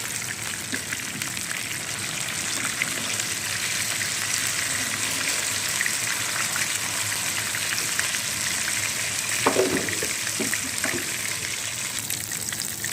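Chicken deep frying in oil for crispy fried chicken, a steady bubbling sizzle held throughout with a few brief stirring clinks near the end, nobody speaking.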